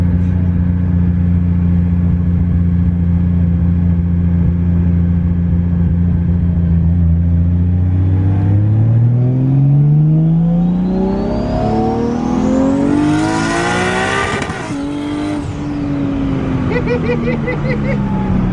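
A widebody Nissan S13 with a 1JZ engine pulls hard at full throttle, its loud, close engine note climbing steadily in pitch through the revs before a gear change and continued strong acceleration.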